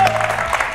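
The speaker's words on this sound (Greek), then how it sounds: "αυτή η προσπάθεια αξίζει τριπλό χειροκρότημα" An audience bursts into steady, dense applause, a loud close clatter of many hands that carries on without a break.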